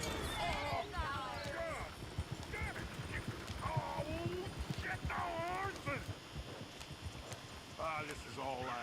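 Horse hooves clip-clop in a steady trotting rhythm in Red Dead Redemption 2, close and continuous beneath frequent talk from several voices throughout.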